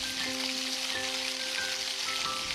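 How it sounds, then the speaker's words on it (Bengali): Potatoes frying with garlic and chilli powder in a pan, a steady close sizzle with soft stirring scrapes throughout, no voices. "এই সবকিছু মশলার সাথে আলুটাকে প্রায় 2 থেকে 3 মিনিটের মতন কষিয়ে নেব।"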